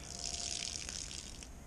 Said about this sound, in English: Let tip this water away.